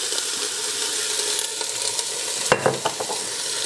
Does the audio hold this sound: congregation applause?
no